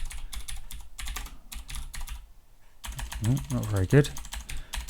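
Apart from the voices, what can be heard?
typing on a computer keyboard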